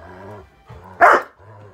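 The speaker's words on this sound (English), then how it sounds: "Don't bark. Stop barking." A playful dog barks once, loud and close, in a single sharp bark between stretches of quiet whining and panting-like sounds.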